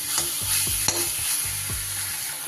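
Tomato masala for a katla fish curry fries and sizzles steadily in a pan while a spoon stirs it in repeated scraping strokes, close and continuous with no talk.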